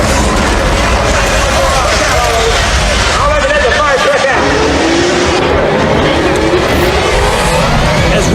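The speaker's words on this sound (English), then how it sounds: "Ricky peels out, his axle, weakened by normal wear and tear, brakes, causing his truck to veer directly into Junior." A blue pickup truck with a worn, breaking axle peels out at a truck racing event, with a loud, continuous roar of engine and tire noise and a narrator talking over it throughout.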